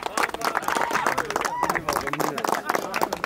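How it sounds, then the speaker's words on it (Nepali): Rhythmic clapping from a crowd at the opening ceremony of an open volleyball tournament, fairly close, mixed with background chatter and voices. "ताली ताली ताली"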